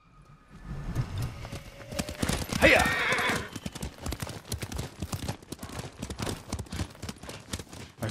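Horse hooves clip-clop steadily at a canter in the game Ghost of Tsushima, with a brief whinny near the start, alongside a tonal music bed and faint voices.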